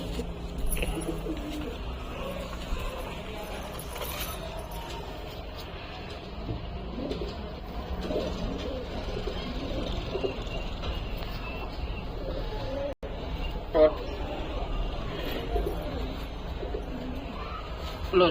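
Madrasi pigeons cooing in a loft, soft repeated low coos blending with rustling and a busy outdoor background, steady and moderately near.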